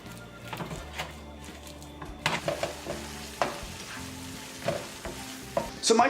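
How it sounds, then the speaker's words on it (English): Chorizo browns in a pan with chopped onion and garlic, giving a steady sizzle of frying broken by repeated scraping and stirring strokes, close and moderately loud. "you're gonna brown it in a pan with 1/4 of a medium onion and about a clove of garlic"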